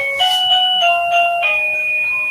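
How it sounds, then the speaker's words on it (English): A front-gate warning bell rings out loud and close, a chiming doorbell-style ding-dong of a few overlapping tones that hold and fade over about two seconds. "The warning bell was to the gate out front."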